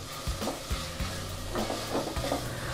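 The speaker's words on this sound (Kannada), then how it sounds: "ಈಗ ಶುಂಠಿ ಬೆಳ್ಳುಳ್ಳಿ ಪೇಸ್ಟು ಸಹ ಹಸಿ ವಾಸನೆ ಹೋಗೋವರೆಗೂ ನಾವು ಇದನ್ನು ಫ್ರೈ ಮಾಡ್ಕೊಂಡಿದ್ದೀವಿ." Ginger-garlic paste fries with chillies and mint in a pan for egg biryani, a soft continuous sizzle broken by a few low knocks and scrapes of stirring.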